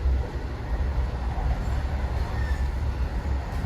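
An NJ Transit train rides the old CNJ line from New York toward Raritan, heard from inside with a steady, loud low rumble of wheels and car noise and faint faint squeals.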